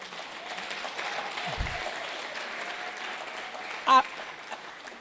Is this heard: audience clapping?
yes